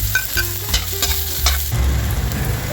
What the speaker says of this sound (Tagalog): Mainit na yung mantika kaya ilagay na natin yung ating bawang.